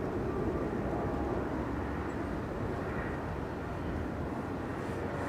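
Ryanair and EasyJet airliners pushing back at Manchester Airport, heard as a continuous broad distant engine rumble and roar that holds steady throughout, with no talking.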